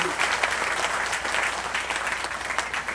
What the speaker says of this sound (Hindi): तो एक बार उनके नाम पर भी ताली बजाकर आप स्वागत करें।